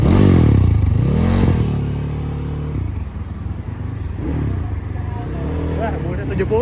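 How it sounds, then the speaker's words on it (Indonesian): Honda Mega Pro motorcycle bored up to about 225cc revving hard on a test drive, its engine pitch sweeping up and down in loud close bursts with talk over it. "Kita test drive dulu ya guys ya. Si Mega Pro 225 cc kayak Scorpio guys."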